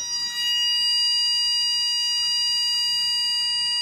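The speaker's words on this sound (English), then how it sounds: "it was a longer beep and then a tiny little vibration" An anti-bark dog collar emits a loud, sustained high-pitched electronic beep that holds steady for nearly four seconds, alone with no voices.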